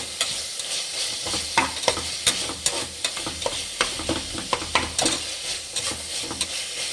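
Tomatoes and masala fry in a pan for egg biryani, a steady close sizzle broken by frequent scraping and clacking strokes as a spoon stirs the mixture, with no voices.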